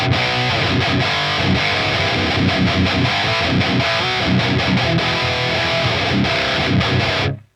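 An electric guitar played through a distortion pedal sounds thick and crunchy, with chugging chords strummed continuously before cutting off abruptly at the end.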